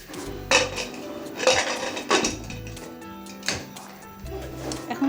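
Rice, salt and water are stirred in a metal pot, with a utensil clanking and scraping against the sides in irregular bursts of sharp metallic clinks.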